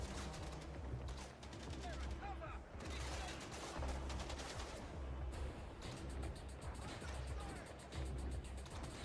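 Sustained gunfire rattles through a firefight in the MindsEye video game, rapid automatic bursts layered over a loud, continuous battle din with brief lulls, faint and distant in level.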